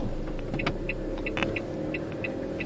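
A vehicle reversing on a road in France, heard from inside as a steady low engine rumble with a few faint ticks and clicks, close and even, with no speech.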